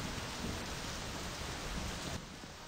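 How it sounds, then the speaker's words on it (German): Heavy storm rain in the video game My Summer Car, a loud steady wash of rainfall with a deep rumbling low end like thunder, continuous throughout and dropping slightly near the end. "Das war ein Blitz."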